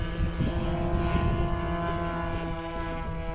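Steady droning propeller engine of a Tiger 30 light aircraft heard from close by on the runway, a continuous buzzing hum with no break.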